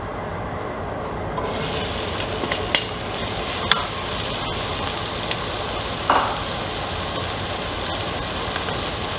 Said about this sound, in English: at this point, we're going to go ahead and add our onions